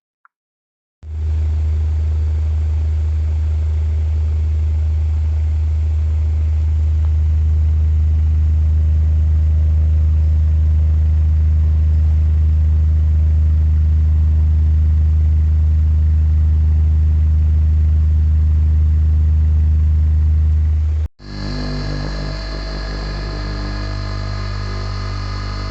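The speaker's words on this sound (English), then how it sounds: "It's also AC induction motor" An AC induction motor runs with a loud, steady hum and drone that holds constant for about twenty seconds, then cuts off briefly and resumes with a shifted tone.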